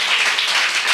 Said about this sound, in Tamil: கைத்தட்டி கர்த்தரை ஸ்தோத்திரம் பண்ணுங்க